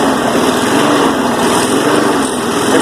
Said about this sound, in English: So I turned up the throttle and I let her hunt a little bit.